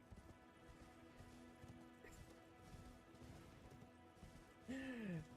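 Horse hooves clip-clopping in Elden Ring, quiet rhythmic hoofbeats under a humming background, ending in a louder burst with a short whinny-like cry.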